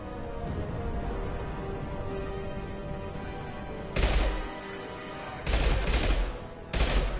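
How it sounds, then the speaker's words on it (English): Bursts of gunfire in the Mass Effect 2 game, including a concussive shot: loud rapid fusillades come in three clusters over a steady low combat rumble, with no one talking. "Firing concussive shot!"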